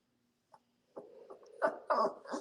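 Dog whimpering indoors, a faint thin whine followed by a run of louder, closer whimpers and yips that rise in strength toward the end.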